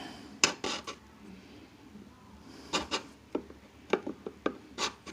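A steel chisel pushed and pulled across a sharpening stone, giving a series of short scraping and rasping strokes in irregular bursts, close and moderately loud, with no talking.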